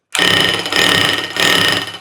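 An Assur rotary hammer drill runs in hammer-drilling mode, a loud, close, rapid pounding clatter in three sustained bursts with brief dips between them.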